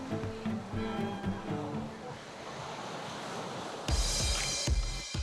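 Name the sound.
ocean waves at the Gower coast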